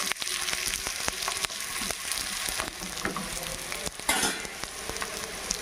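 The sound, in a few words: jowar ragi roti roasting on a hot pan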